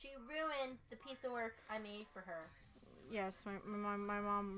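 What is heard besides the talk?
No distinct noise like a dog, phone or traffic.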